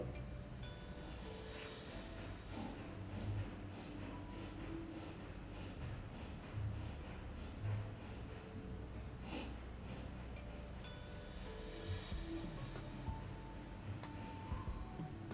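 Rapid rhythmic nasal breath-of-fire exhalations from a Kundalini yoga practice for digestion, a steady train of quick sharp puffs sounding close and moderately quiet, pausing briefly and resuming, with no talking.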